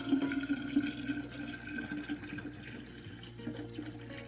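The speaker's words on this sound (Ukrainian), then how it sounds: "Все, цукор розчинився, переливаємо це у чисту банку." Homemade dark grape wine pours into a clean jar, a soft continuous trickle and splash of liquid at close range, faint and steady, with no talking.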